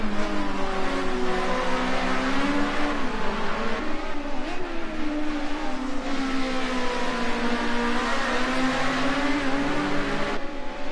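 Two Ford race cars battle on overheating, slidey tyres at Watkins Glen in a Group A touring car racing game, engines droning loudly and continuously with shifting revs as they run close together.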